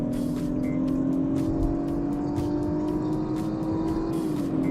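A high-mileage BMW F30 sedan accelerates hard at speed. Its engine tone climbs steadily under heavy wind and road roar, heard from inside the car with no talking.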